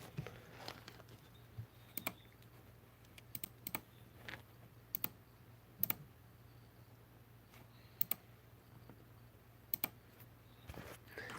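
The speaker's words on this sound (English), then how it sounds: "Sorry for the loud clicking in the background." Loud computer keyboard clicking near the microphone during a live game stream, sharp irregular keystrokes and short bursts of taps over a faint steady background hum, with no talking.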